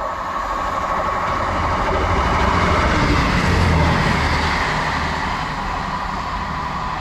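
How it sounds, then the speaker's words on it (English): An East Midlands Railway passenger train, unit 158847, rumbles steadily through a station at close range, a loud continuous roar of wheels and engine that swells slightly midway. "passing through now is a East Midlands Railway service to Norwich from Liverpool Lime Street"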